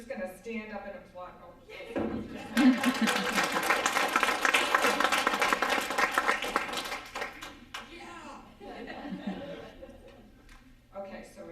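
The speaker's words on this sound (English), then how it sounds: "I'm just going to stand up and applaud." An audience at a Democratic District 4 candidate forum breaks into applause after a short pause, a dense burst of clapping mixed with chuckles that lasts several seconds before fading, with a voice speaking at the edges.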